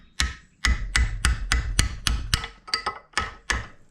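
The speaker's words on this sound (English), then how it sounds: "And then chisel behind, and she'll slide straight off." Hard metal blows of a hammer striking a chisel driven behind a Peugeot 807 wheel bearing, about ten sharp ringing strikes in a steady rhythm with a brief quicker double hit near the end, close and loud with no talk.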